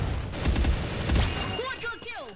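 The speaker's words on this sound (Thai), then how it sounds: "เฮ้ยระเบิด" A deep explosion in the mobile shooter game Xshot booms with rumbling blasts, then a voice speaks over the fading aftermath.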